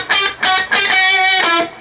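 A hip hop riff on an electric guitar played through distortion. Short sustained, buzzing notes sound loud and close in quick succession, with no voices over them.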